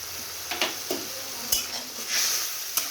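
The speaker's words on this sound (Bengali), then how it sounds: "এবার কষিয়ে নিব।" Spices with chili powder, salt and turmeric cook down in a pan for a brinjal and fish curry, giving a soft hiss with several sharp spatula clicks against the pan.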